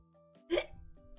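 A single short, close burp breaks out abruptly over a faint steady background hum.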